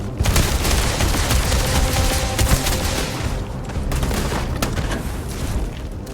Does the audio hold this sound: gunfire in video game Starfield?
yes